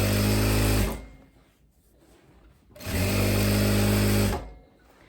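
Two loud, sustained runs of a sewing machine stitch straight side seams on spandex trousers, separated by a short quiet pause with faint handling noise.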